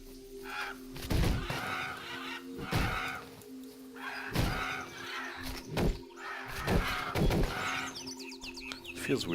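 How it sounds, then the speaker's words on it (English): Crows in the video game Titan Quest being clubbed, with repeated harsh caws mixed with heavy thudding blows in a steady rhythm, loud and close over constant game ambience. "Feels weird clubbing birds to death."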